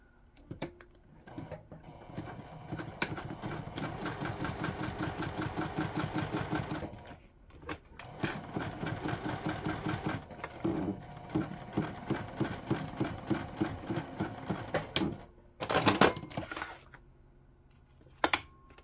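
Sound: sewing machine sewing a top stitch

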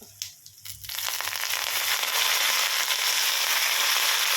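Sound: fenugreek, mustard seeds and curry leaves sizzling in oil

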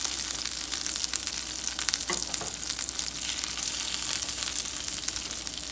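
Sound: ahi tuna steaks searing in hot pan

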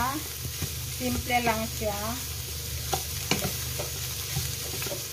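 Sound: cabbage being sautéed and stirred in a frying pan

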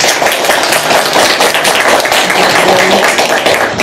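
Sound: audience applause

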